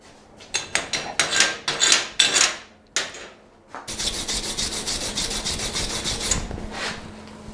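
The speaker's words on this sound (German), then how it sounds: "Jetzt müssen wir mal gucken, dass wir mal die Schlacke abschlagen." Rhythmic scraping and knocking strike a thick flux-core weld seam as the slag is chipped away, with separate sharp strokes first and then a steady, harsh rasping brushing.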